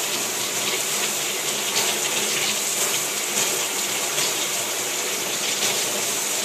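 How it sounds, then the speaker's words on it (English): Tap water runs in a steady, loud, close gush over an aloe vera leaf as it is rinsed, a constant broadband splash with slight surges and no voices. "I'm going to rinse the aloe. The aloe leaf. I'm going to rinse it off."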